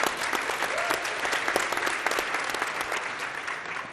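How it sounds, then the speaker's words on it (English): An audience claps warmly at a conference session, a dense burst of applause that starts strong and slowly tapers off over a few seconds, with no talk over it. "You can clap for that, absolutely."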